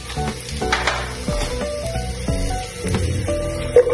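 Onion frying in hot cooking oil, a close, lively sizzle with spattering crackles and a few knocks of stirring against the pan.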